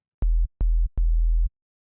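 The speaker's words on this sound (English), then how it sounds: "we're going to load a sine wave" Three low sine sub-bass notes from the Serum synthesizer, each sustained and evenly spaced with short gaps, deep and clean with no talking over them.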